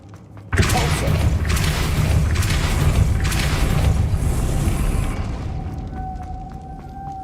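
A Depulso spell cast in Hogwarts Legacy sets off a sudden loud booming blast that rolls on for several seconds, then fades into a quieter tone with faint clicks.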